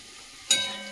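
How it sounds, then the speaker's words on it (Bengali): Chopped garlic dropped into hot oil sets off a sudden sharp sizzle halfway through, holding steady after a quiet start. "এই তেলের মধ্যেই আমি দিয়ে দিচ্ছি এই যে রসুন কুচিয়ে রেখেছিলাম, রসুনটা দিয়ে দিলাম"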